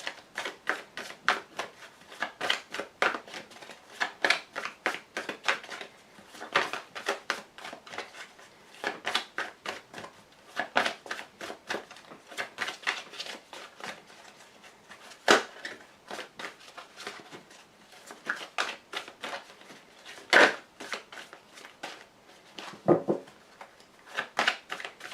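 Tarot cards riffled and laid out over about twenty-five seconds, a steady run of quick papery flicks and slaps at close range, with brief pauses and a few sharper snaps.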